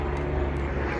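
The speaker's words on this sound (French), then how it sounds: "un hélicoptère qui va à l'hosto." A helicopter flies over a residential area on its way to a nearby hospital, a steady, broad engine and rotor drone holding at even loudness throughout with no voices.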